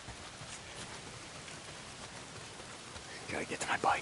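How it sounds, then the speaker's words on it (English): Steady rain falls in the open-world video game Days Gone, a soft continuous hiss of drops at low level, with a few louder spattering bursts near the end. "If it's not the freaks, it's the goddamn rain."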